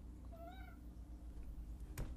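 A cat gives one short, clear meow in a room with a steady low background hum, followed by a brief faint rustle near the end.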